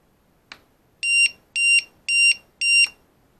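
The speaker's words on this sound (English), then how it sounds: "And then the beeper." A tricopter's small electronic beeper sounds one short chirp followed by four loud, evenly spaced high-pitched beeps, close up and with nothing else heard.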